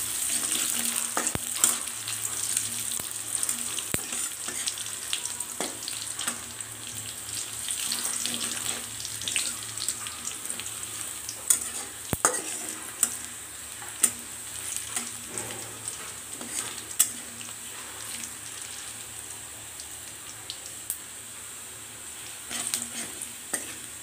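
Cumin and panch phoron sizzle steadily as they fry in a pan, with frequent scraping clicks from stirring scattered through a long, moderately quiet stretch.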